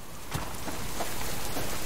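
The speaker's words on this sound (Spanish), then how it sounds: "Por mí que la lluvia se ha bugueado." Rain falling in the survival game Subsistence, a steady broadband patter of drops on surfaces, moderately loud and continuous without any talk over it.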